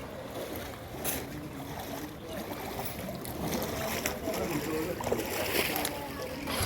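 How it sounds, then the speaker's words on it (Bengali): A boat moves through floodwater at Ardgora near the Ghatal bus stand, giving a steady wash of water and engine noise with occasional splashes, while people talk nearby. "এই নৌকা চলছে"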